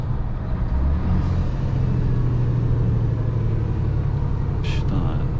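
A coach braking hard on the road, a heavy low vehicle rumble with a sustained tonal drone, heard from inside a Scania R450 truck cab, ending with a short sharp hiss.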